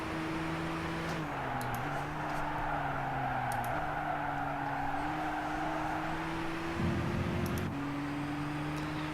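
Race car in Gran Turismo 6 on an old touring car circuit, its steady engine drone shifting pitch through gear changes, with a brief burst of tire scrub near the end; fairly quiet and continuous, no talking.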